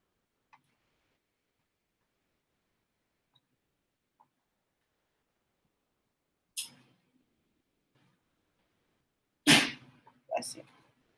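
Mostly quiet room with faint ticks, then a sharp burst and a sudden loud sneeze followed by a smaller second burst.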